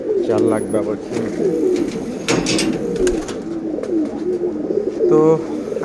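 Several pigeons coo inside a loft, their low rolling calls overlapping close by with a brief rustle midway and a louder coo near the end.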